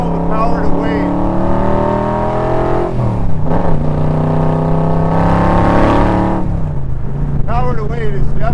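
A Roush 427 Backdraft Cobra roars under hard acceleration, its engine note climbing through gears with brief dips at the shifts, loud and close from inside the car, with voices heard over it.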